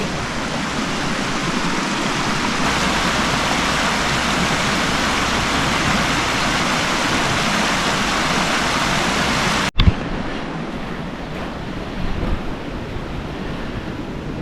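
Continuous rush of Granite Creek, British Columbia, near a campsite, a loud steady wash of water that cuts abruptly partway through to a quieter, thinner water sound with light handling bumps.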